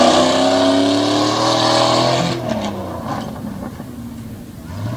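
Race car powering through an outside right-hand corner over turtle-shell bumps, loud close engine roar rising in pitch, then fading after two seconds into rougher mechanical rumble and clatter.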